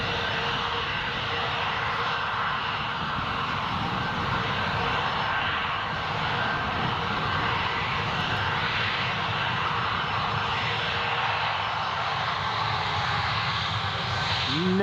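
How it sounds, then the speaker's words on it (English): An Emirates Boeing 777 vacates the end of the runway at Newcastle Airport, its jet engines giving a steady, continuous roar at a moderate distance throughout, with no talk over it. "Emirates is just going to vacate the end of the runway there."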